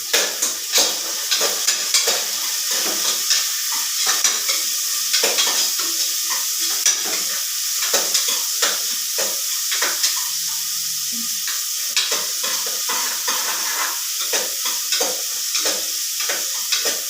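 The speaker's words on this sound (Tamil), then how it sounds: "வெங்காயம் நல்லா வதங்கட்டும்" Shallots sautéing in a pan, a steady bright sizzle running the whole time with frequent scraping stir strokes and light clinks of a spoon against the pan, close and alone.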